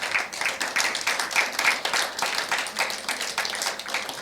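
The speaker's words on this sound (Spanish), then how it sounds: "Alguien dele un aplauso fuerte al Señor." A church congregation applauds in a steady burst of rhythmic clapping, loud and sustained for several seconds.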